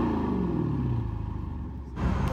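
A Dodge Charger Scat Pack with its stock exhaust tips sends out a deep, close rumble that sags as the pitch falls, then swells again in a brief rev near the end.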